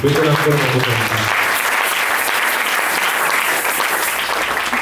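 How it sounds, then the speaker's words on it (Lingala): Church congregation applauding during a French-language worship service, a dense steady wash of many hands clapping throughout, with a voice briefly audible under it at the start. "Acclame tes pour le Seigneur."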